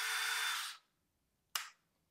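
A cordless drill on its fast setting spins up with a steady high whine for under a second, stops, then gives one brief burst while drilling a thin golf cart dash.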